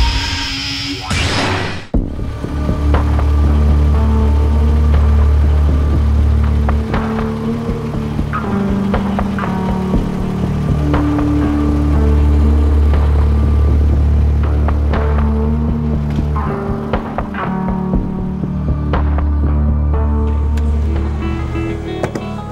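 A car engine runs steadily with a deep, loud rumble and occasional clicks and rattles, continuous throughout with no talking.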